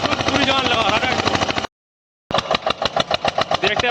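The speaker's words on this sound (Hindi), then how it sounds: "बिल्कुल पूरी जान लगा रहा ट्रैक्टर।" An Eicher 241 tractor engine labours loudly while pulling a nine-tine cultivator in a field, a close, harsh throbbing roar that cuts out abruptly for a moment and then resumes with rapid pulsing beats.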